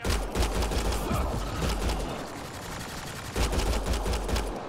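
Fast, rapid gunfire bursts crackle during a combat encounter in Mass Effect: Andromeda, with dense volleys at the start and again near the end and a slightly quieter stretch in between.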